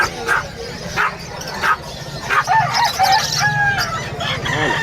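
Small dogs yap in short, high-pitched barks, several in a row, at a pet market in Bocaue, Bulacan, mixed with rooster-like crowing and other animal noise nearby.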